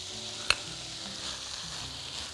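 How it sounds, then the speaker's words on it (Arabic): Freekeh fries with a steady soft sizzle in a pan as it is stirred, with two sharp utensil clinks against the pan. "بعدين هنزل بالفريك."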